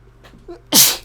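A person sneezes loudly and close to the mic, a single sharp explosive burst after a brief quiet intake of breath.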